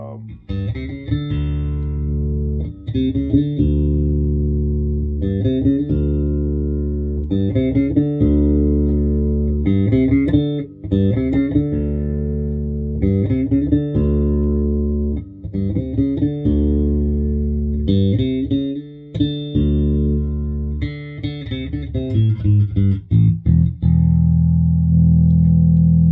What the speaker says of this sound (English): Just the filter knob.